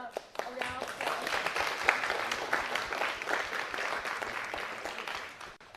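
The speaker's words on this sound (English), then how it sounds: "please give them a round of applause" Audience applause at an evening business talk event, a steady wash of many hands clapping that rises quickly and holds at an even level for several seconds before fading slightly at the end.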